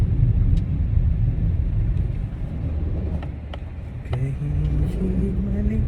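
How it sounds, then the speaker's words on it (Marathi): A car driven along a ghat road in the Konkan on a trip from Mumbai to Dapoli, its steady low engine and road rumble running throughout while people talk inside the cabin. "गेले 1 तास मी गाडी चालवते"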